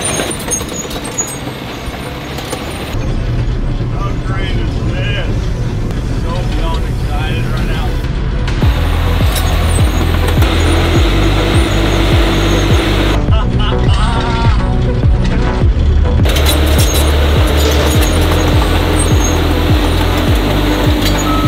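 A huge 20,000 lb bulldozer runs with a loud, steady low engine drone that rises slightly in level partway through and carries on throughout.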